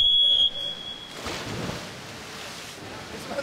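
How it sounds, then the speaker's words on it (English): Electronic start beeper at a swimming race, one short high-pitched tone at the very start that cuts off sharply, followed by hollow pool-hall ambience. "Cameron couldn't hear the beeper."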